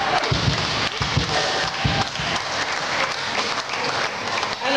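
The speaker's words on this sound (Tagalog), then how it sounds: "Anong klaseng palakpak yan sa Panginoon?" Congregation clapping at a church anniversary gathering, loud rhythmic hand claps with heavy low thumps, energetic and continuous with a few brief voices mixed in.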